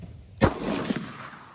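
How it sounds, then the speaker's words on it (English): Carcano M1891 long rifle fired at a 100-yard outdoor range, a single sharp loud shot with a booming report that rings and fades over about a second, preceded by quiet ambience. "Carcano M1891 long rifle. What could it do at 100 yards?"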